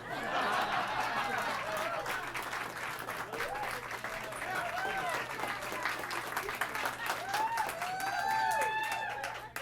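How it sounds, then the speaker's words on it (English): Audience applause at a live talk show, a steady wash of clapping throughout with scattered cheers and some laughter mixed in. "Appreciate the applause for my birthday."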